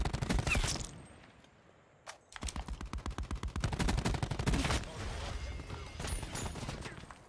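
Rapid gunfire in Black Ops 4, loud bursts of quick repeated shots with a brief lull near the start before the shooting resumes and continues steadily.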